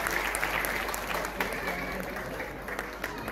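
Families applauding at a kindergarten year-end show, with dense, sustained clapping from a crowd in a hall continuing steadily throughout at moderate distance.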